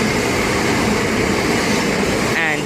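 A Class 375 electric train, unit 375607, passes through Sole Street station with a loud, continuous rushing rumble, while a voice talks over the noise.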